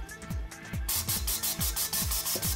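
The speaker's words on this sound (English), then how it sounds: "The second bead can be moved over the flange with a bead roller." On a Twin Busch TW X-36 tyre changer, a bead roller pushes the second tyre bead over the rim flange, making a rhythmic run of rubbing, squeaking pulses with soft low thumps in a steady cadence.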